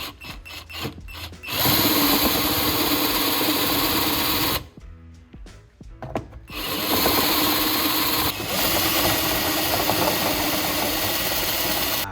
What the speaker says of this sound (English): So let's drill that hole out with my drill bit.